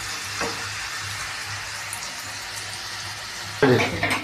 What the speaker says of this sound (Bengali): আলুটা খুব ভালো করে ভাজা হবে পেঁয়াজের সাথে